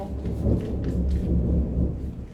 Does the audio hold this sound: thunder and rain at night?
yes